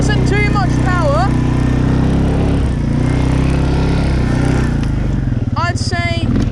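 A quad bike engine revs hard and accelerates across a field in rear-wheel drive at half to three-quarter throttle, a loud, close, steady drone with rising pitch sweeps near the start and again near the end.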